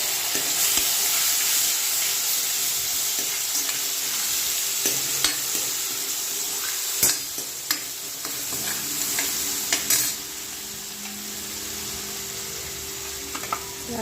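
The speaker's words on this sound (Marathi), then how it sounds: "स्लो मिडियम गॅसवर आपल्याला अदरक लसणाची पेस्ट फ्राय करून घ्यायची" Ginger-garlic paste with cumin seeds sizzles steadily over a slow-to-medium gas flame while a spatula scrapes and stirs in scattered clicks, all close and without speech.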